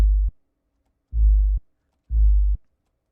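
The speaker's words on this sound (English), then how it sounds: "all I'm doing is taking the attack off the 808 for this, so it sounds like this." An 808 bass with its attack filtered off in FL Studio plays three deep, smooth sub-bass notes, each swelling in softly without a click and holding about half a second, separated by brief silences.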